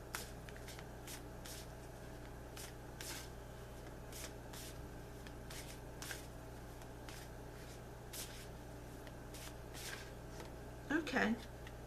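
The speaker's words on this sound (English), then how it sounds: "I'm going to shuffle the Archangel Michael prayer cards" Repeated soft riffling bursts of prayer cards being shuffled, steady and close, over a low background hum, ending with a brief voice.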